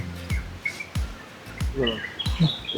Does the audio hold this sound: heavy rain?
no